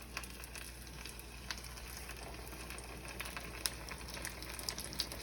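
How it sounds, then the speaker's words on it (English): Cauliflower wings frying in a deep fryer, a steady low sizzle with scattered crackles and pops throughout, fairly faint and close, with no talk over it. "next we're gonna throw it into the fryer"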